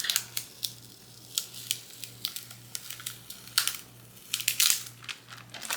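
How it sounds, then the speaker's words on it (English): Crafted Cricut material peeled back by hand: a series of short, crisp crinkling and tearing crackles in irregular bursts, close and fairly quiet, with no talk. "Peeling that back."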